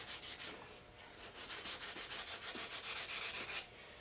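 Sandpaper of 180 grit rubbing over putty on a 1:350 scale plastic Enterprise model saucer, a steady close scratchy back-and-forth sanding in quick strokes with no talking.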